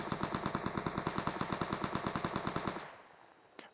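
Rapid automatic gunfire from a video game custom room battle, a steady loud burst of evenly spaced shots for nearly three seconds that stops abruptly, followed by a single sharp crack.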